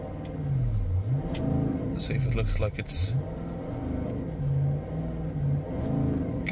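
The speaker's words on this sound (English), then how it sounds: "we're just going to give the vehicle a few revs" A Range Rover engine revs up and falls back several times in rising and dropping sweeps, loud and close, with someone speaking over the running motor.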